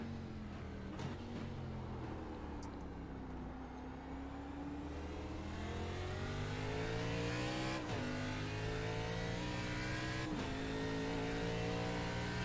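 Race car engine from an ARCA Menards Series stock car in the iRacing sim at Sonoma Raceway, droning steadily and rising and falling in pitch through gear changes, with a couple of sharp upshift breaks.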